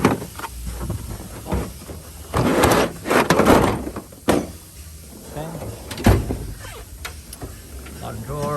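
A drawer slides open on a 56-inch US General automotive technician's toolbox, a rolling metallic scrape amid clunks and rattles, with someone talking throughout.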